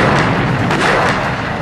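A loud, close gunshot boom at a shooting competition, with a dense blast that fills the short moment and no talking.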